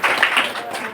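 Applause from an audience at a memorial gathering in Bharuch, Gujarat, comes as a brief burst of crowd clapping, fairly loud and diffuse, lasting about a second.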